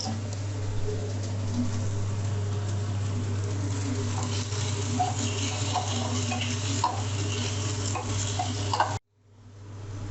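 Tomatoes sautéing in a pan with salt for chana masala, a soft continuous crackling sizzle with faint ticks over a low steady hum, ending abruptly.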